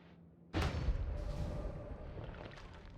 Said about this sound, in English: Let me actually kill you with the Holy Bomb.